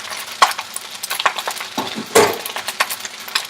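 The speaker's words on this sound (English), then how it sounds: "Gotta make sure this rice fries" Shrimp fried rice sizzles in a pan while a utensil scrapes and clinks against the metal in quick irregular strokes, with a louder burst of frying partway through, near and without talk.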